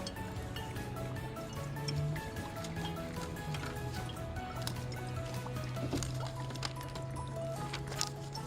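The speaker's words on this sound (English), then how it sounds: "So now I'm just adding a nugget and putting it in, and as you can see, the bubbles are forming." A nugget of dry ice bubbles and fizzes in bromothymol blue indicator solution, giving a continuous run of small pops and gurgling drips close by, with a low hum running underneath.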